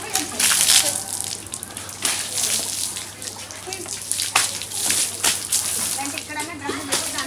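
Water is poured over someone's head during a festive family celebration, with splashing and sloshing bursts over a noisy background of lively voices and talk.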